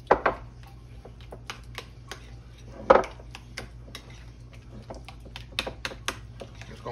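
Cream cheese and mayonnaise being mixed in a bowl, with light clicking taps and a couple of sharper knocks of utensil against the bowl, soft and close with a low hum underneath.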